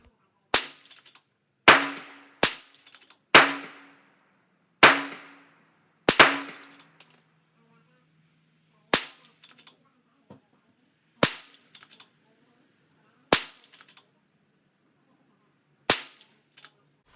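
Ruger Precision Rimfire rifle firing Norma TAC 22 ammunition at a 50-yard range: ten sharp, fairly quiet reports spaced roughly one to two seconds apart, each with a brief metallic ring and some faint clinks between shots.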